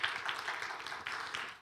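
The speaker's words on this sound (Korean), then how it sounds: "우리 환영의 박수 쳐도록 하겠습니다" A church middle and high school Sunday youth service gives a short round of welcoming applause, soft and a bit distant, with a few louder clusters of claps over about a second and a half.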